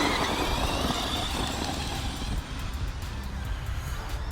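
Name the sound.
Arrma Fireteam RC car driving under throttle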